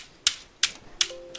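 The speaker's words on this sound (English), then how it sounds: "I slam my head on the keyboard?" A computer keyboard hit in three sharp, evenly spaced clacks, close and loud, as if a head were slammed onto the keys.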